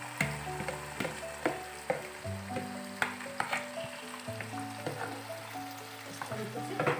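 Chicken pieces frying for masala chicken in a pan, a loud continuous sizzle close up with repeated clacks of a spatula against the pan as pieces are stirred, no voices.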